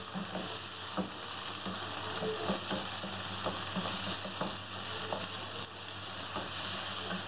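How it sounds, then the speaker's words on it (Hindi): Beef pieces frying with golden brown onions over a high flame for nihari, a continuous sizzle with intermittent stirring scrapes and clatters at a moderate, even level. "इसको अच्छी तरह से हम भूनेंगे।"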